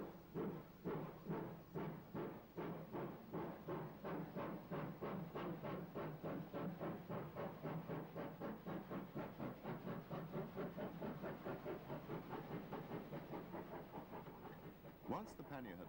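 An evening steam train, a pannier tank locomotive, pulls away from Monmouth bound for Chepstow in 1959 UK railway footage, its chuffing exhaust beats steady and rhythmic throughout, with a brief sharp whistle or hiss near the end.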